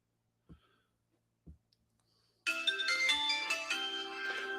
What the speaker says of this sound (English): I've got a phone call here